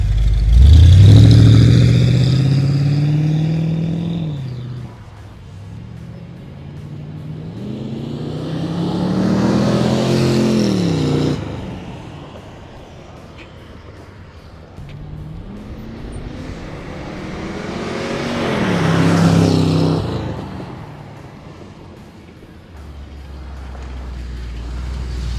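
A 1978 Chevrolet Corvette accelerates and drives by in three loud engine surges, each revving up then easing off, the first closest and strongest, with quieter idle-like stretches between passes.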